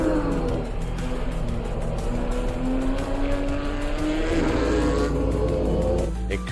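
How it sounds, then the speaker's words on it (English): A Porsche Supercup race car in Assetto Corsa Competizione roars loudly and continuously, its engine note climbing through the gears as it accelerates, then a sharp shift near the end. "Incredible sounding car, boys."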